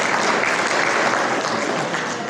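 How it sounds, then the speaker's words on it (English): Audience clapping at a panel discussion, a continuous dense burst of many hands at a steady level, close and full, with no talking over it. "We can clap for that."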